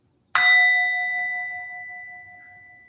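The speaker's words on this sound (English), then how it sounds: "At the sound of the bell, your practice is complete." One meditation bell is struck once to close a practice session, a clear bright ring that sustains and slowly fades over a few seconds in a quiet room.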